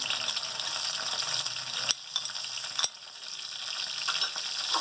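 Curry leaves and cumin seeds hit hot oil in a village-style kitchen, giving a steady close sizzle with a few sharp crackles and brief dips in loudness.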